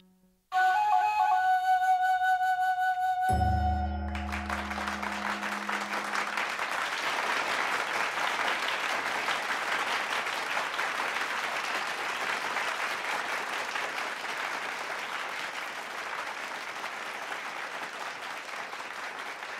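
After a sustained tonal note and a low thud, a large audience breaks into loud, dense applause that holds steady for the remaining duration, following a kamishibai storytelling performance.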